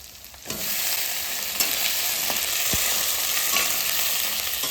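Chopped capsicum and onion hit hot oil in a pan and burst into a loud, continuous sizzle, with occasional scraping clicks as the pieces are stirred.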